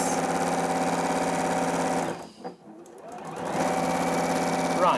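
A Juki HZL-NX7 sewing machine stitches a seam with a steady, fast mechanical whir. The stitching pauses briefly near the middle and then picks up again at the same loud, close, even pace.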